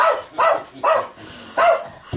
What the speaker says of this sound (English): dog sense something's wrong.